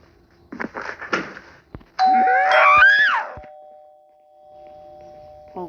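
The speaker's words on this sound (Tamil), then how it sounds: "காலிங் பெல் அடிச்சுட்டு போகணும்" A doorbell rings at a home: after some soft knocks and shuffling, a loud electronic chime sounds with a rising-and-falling tone, lingers as a faint steady hum, then a final brief tap, close by.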